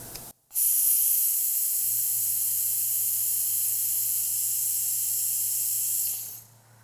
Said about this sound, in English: We're going to come over to our multi-day pump, put our wand over the valve, and simply hit the button